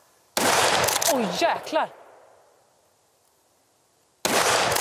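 A loud rifle shot cracks at hunting shooting practice and echoes away, voices exclaim over it, and a second sharp shot bursts in at the very end.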